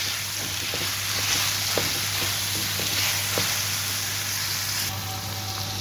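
About 200 grams of shelled peas are stirred in a hot frying pan, giving a steady sizzle with faint scraping taps throughout, close and continuous.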